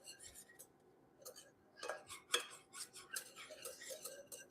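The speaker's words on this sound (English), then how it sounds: "So when you add the turmeric, guys, you wanna go ahead and have your whisk" Turmeric whisked into milk, heard as quick, irregular clinks and taps of a whisk against the side of a pot or cup, close and fairly light, with short bursts separated by brief pauses.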